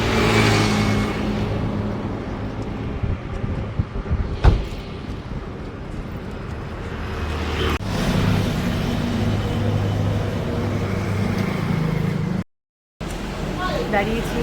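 A car drives along a highway on a long solo drive past Kolaghat, giving a continuous low road and engine drone inside the cabin, with a few knocks and thumps and a brief dropout near the end.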